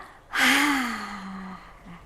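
A man recovering from Covid-19 breathes out deeply during a rehabilitation exercise, one long, close, audible exhale that starts abruptly and slowly fades, with a brief soft breath at the end.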